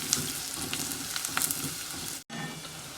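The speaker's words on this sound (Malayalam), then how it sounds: "ഇപ്പോൾ വറുക്കുകയാണ്." Fresh green anchovies sizzling and crackling steadily as they fry in a pan, a close, continuous hiss with small pops, broken by a brief silent gap near the end.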